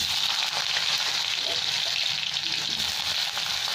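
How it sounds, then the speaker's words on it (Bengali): Boiled potatoes frying in hot oil in a kadai give a steady, close sizzle with a broad bright hiss and no pauses. "এখানে আলুগুলো একটু ভেজে নেব।"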